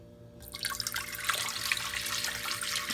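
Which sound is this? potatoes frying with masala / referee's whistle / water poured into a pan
water poured into a pan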